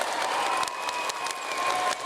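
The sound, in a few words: crowd of Queensland supporters applauding at a basketball game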